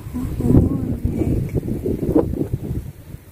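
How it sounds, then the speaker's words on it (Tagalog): Gusty wind in a snowstorm roars and buffets the microphone with low rumbling, while a person speaks intermittently nearby. "ayan yung hangin na may snow."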